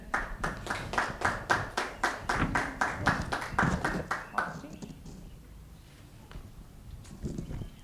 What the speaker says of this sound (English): please put together some applause for Dr. Carol Blanchard.